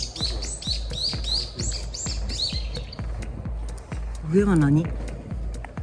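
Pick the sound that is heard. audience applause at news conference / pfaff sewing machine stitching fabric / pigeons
pigeons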